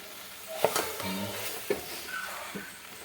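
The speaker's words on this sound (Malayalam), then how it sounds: "ഇനി നമ്മൾ കുറച്ച് സുർക്കിയും പറഞ്ഞിട്ട് ഫുള്ളായിട്ടൊന്ന് മിക്സ് ആക്കാം" Gooseberry pickle being mixed with vinegar: a few soft, wet stirring scrapes and light taps of a spoon in a container, quiet and close, with a brief pause between strokes.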